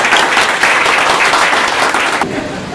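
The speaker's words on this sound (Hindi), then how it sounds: "इनके लिए ताली बजा दीजिए।" Audience applause for a student in a training class: a dense, close burst of clapping from a crowd that carries on and thins slightly near the end.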